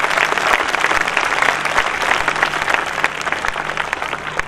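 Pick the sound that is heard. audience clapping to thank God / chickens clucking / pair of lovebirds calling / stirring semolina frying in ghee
audience clapping to thank God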